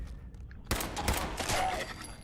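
A sudden burst of rapid gunfire in the video game Fallout 4 erupts after a quiet moment, with several sharp shots in quick succession ringing out loudly and echoing.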